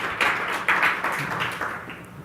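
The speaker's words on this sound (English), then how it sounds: "This is our GA team clapping" An audience at the Google Analytics Summit 2013 keynote clapping, a moderate patter of scattered hand claps that swells briefly and then tapers off.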